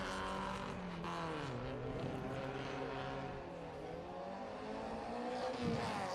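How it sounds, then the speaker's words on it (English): An Austin Lancer race car driven by Cameron Todd laps a circuit at a historic grassroots sprint meeting in Leyburn, Australia. Its engine drones loudly and steadily, rising and falling in pitch as it changes speed, with a brief dip in the middle of the run. "Cameron Todd in the Austin Lancer out on the circuit right now."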